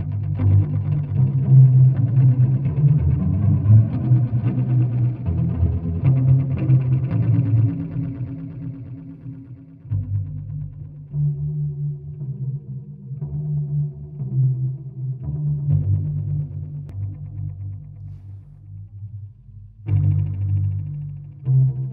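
Electric guitar played through a Death by Audio Space Bender pedal in LFO mode, producing wavering, modulated tones with sustained notes and a break partway through, loud and alone without talk.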